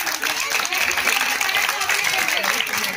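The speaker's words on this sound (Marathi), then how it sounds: "जोरदार टाळ्या वाजवूयात" An audience applauds loudly in a continuous wash of clapping that fills the whole moment, dense and sustained with no pauses.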